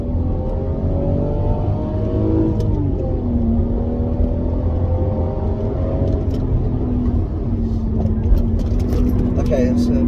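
A Lexus IS300 engine hums and revs steadily while the car is pushed into corners on bendy roads, the pitch rising and falling with throttle, heard close and constant from inside the car under a speaking voice.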